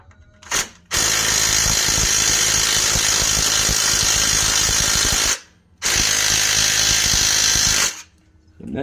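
A power drill driver whirs loudly in two long sustained bursts, straining against a stubborn bolt on the front end of a GMC Yukon, with brief pauses between runs.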